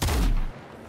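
A single loud gunshot in the Nightingale video game, a sharp close blast decaying quickly into a short rumbling tail.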